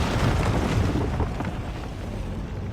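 Mortar fire during a ship-to-ship naval battle in Assassin's Creed IV Black Flag rolls out as a continuous deep, booming rumble. It is loud and heavy at first, then eases slightly into a sustained roar.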